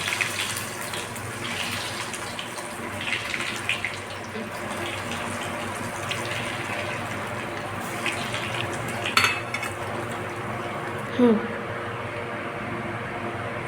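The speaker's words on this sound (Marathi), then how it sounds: "आता याला आपण तेलामध्ये फ्राय करून घेऊया." Bottle gourd cheese balls fry in hot oil with a steady, soft sizzling hiss. A couple of light clinks from a utensil against the pan break through near the end.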